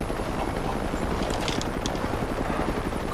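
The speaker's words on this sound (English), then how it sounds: "But a helicopter flies over looking for Jane" Helicopter flying over during a movie scene, a steady broadband rotor rumble that stays constant and moderately loud throughout with no speech.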